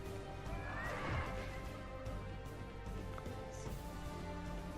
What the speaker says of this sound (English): About 4 horses charging in,